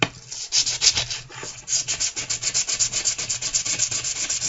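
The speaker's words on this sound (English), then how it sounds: "With sandpaper. So I'm gonna sand" Close, rapid strokes of sandpaper rubbing back and forth on a wedge during cleanup, a fast, even scratchy rhythm with no talking.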